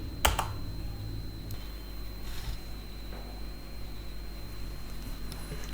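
A few scattered keystrokes on a computer keyboard, one sharp tap near the start and then faint clicks, over a steady low hum with no voices.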